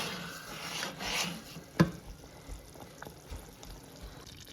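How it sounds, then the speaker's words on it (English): Caramel in a pot bubbles and is scraped with a spoon, giving soft rasping stirs and a sharp clink, with quiet irregular pops underneath and no talking. "you're just going to periodically stir it and just let it keep bubbling until it thickens"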